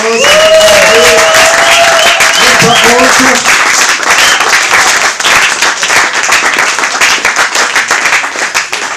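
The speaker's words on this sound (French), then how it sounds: "Acclamons le Seigneur pour votre présence." A church congregation applauds loudly and continuously, a dense close crowd of clapping heard under someone speaking at the start, then thinning slightly toward the end.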